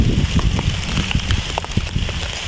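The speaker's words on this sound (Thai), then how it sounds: "ฝนตกเนาะ" Rain falls steadily outdoors, a close, dense patter of drops hitting surfaces, fairly loud and continuous with no one talking.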